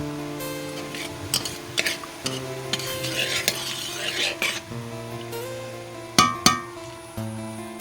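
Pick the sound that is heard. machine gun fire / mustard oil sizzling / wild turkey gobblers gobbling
mustard oil sizzling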